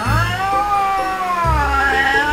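Cats fighting at home, loud drawn-out caterwauling yowls that waver in pitch, with low growling grunts underneath, close by.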